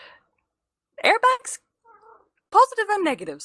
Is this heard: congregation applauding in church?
no